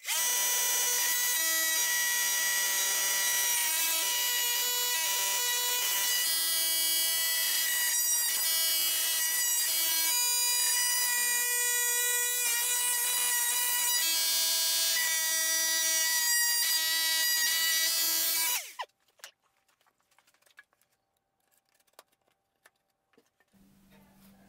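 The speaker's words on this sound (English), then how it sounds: "take your multi-tool and cut it out" An oscillating multi-tool cuts an opening for an electrical box in drywall, giving a loud, steady, harmonic buzz for about nineteen seconds. It then stops abruptly and near silence follows.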